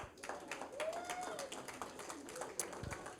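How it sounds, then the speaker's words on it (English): Scattered audience clapping at an outdoor award ceremony honoring park stewardship, light and uneven, with some background voices and a brief whistle-like tone mixed in. "That warrants some applause."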